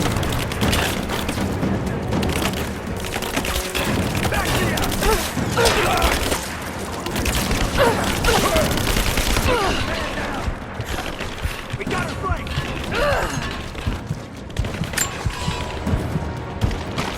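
Gunfire and explosions in the video game Rise of the Tomb Raider during a battle toward a cathedral, a dense, loud barrage of shots, booms and crashes that continues throughout.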